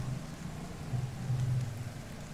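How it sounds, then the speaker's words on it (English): Steady pouring rain in the video game I Was A Teenage Exocolonist, a low, even wash of downpour that holds quietly throughout with no voices. "It's pouring rain, and everyone's trying to stay under the grass-roofed palapas."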